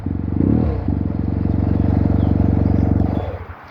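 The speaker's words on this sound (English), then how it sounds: "I will turn it on now so you can hear the exhaust" A 2016 Yamaha TMAX 530 scooter with an aftermarket Akrapovic exhaust and the silencer insert removed starts up, its loud, deep throbbing idle running steadily before cutting off near the end, with no talk.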